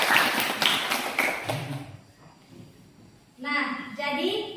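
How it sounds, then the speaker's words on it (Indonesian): Group of people in a classroom clapping their hands in a quick burst of applause, mixed with children's voices, followed by a short lull and then someone speaking. "tepuk tangan untuk kita semua"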